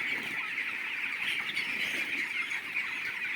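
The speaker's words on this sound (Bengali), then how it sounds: "দেখুন মুরগি উড়াউড়ি লাগিয়ে আছে" Chickens on a farm cluck and squawk continuously at moderate distance, a steady busy flock with no talking over it.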